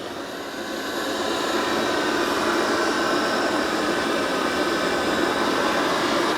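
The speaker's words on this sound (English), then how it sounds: "So the X30 has its mop pads spinning, and it can extend that side brush." Dreame X30 robot vacuum mopping a floor with spinning mop pads, a steady close whirring hum with a hiss that swells in the first second and then holds level, no talking.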